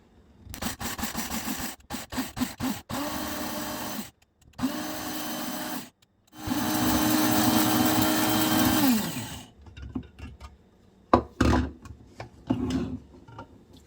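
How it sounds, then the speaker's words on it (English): Several short bursts of a loud whirring coffee grinder grinding dried ginger, then a longer sustained grind of about three seconds that winds down, followed by scattered knocks and tapping. "just pour it into my coffee grinder"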